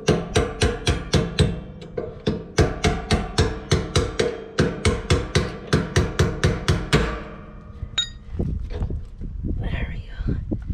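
A hammer drives a metal punch against a trailer leaf spring pin in a fast, steady run of about twenty sharp metallic blows, followed by quieter handling sounds and some talk.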